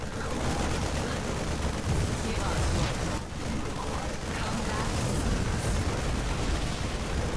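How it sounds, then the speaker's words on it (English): Stalker fire hitting a siege tank in a StarCraft 2 battle, with dense, continuous crackling blasts and gunfire-like bursts layered over a loud, sustained game soundscape. "so the siege tank is exposed and I snipe it with the Stalkers from the low ground"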